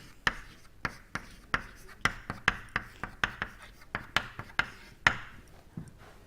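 A pen scratches and taps on a writing surface during a fluid mechanics lecture on Bernoulli's equation: about a dozen sharp, close strokes in an uneven rhythm, heard alone with no talking.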